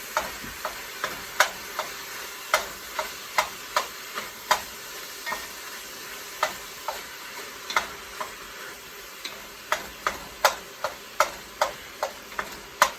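Pork browns in a pan for pork and white bean chili, with a steady soft sizzle broken by frequent sharp taps and scrapes of a utensil stirring the meat, close and without talk.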